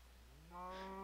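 A single Minecraft cow gives a faint, short moo that starts halfway through and holds its low tone to the end, with no other sound around it.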